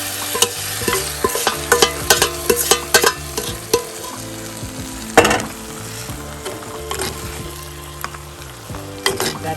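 Spicy Jaffna-style mutton frying in a pan with its stock, loud close sizzling and bubbling with frequent clanks and scrapes of stirring, no voices.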